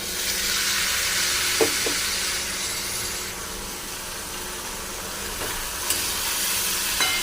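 Potato slices with chopped spring onion, turmeric and salt sizzle steadily in a pan, a continuous close frying hiss broken by a few soft scrapes and knocks as the mixture is stirred; no voices.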